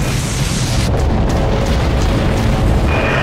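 Heavy artillery from a Dreadnought warship fires in a continuous rumbling barrage, deep booms and explosions blending into a loud, sustained roar with no clear gaps.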